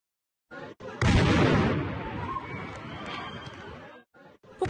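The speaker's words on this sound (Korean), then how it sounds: "폭발음에 놀란 사람들이 혼비백산에 달아납니다." A bomb explosion tears through a busy Istanbul street with a sudden loud blast, followed by a long, chaotic roar of noise that slowly dies down after about three seconds.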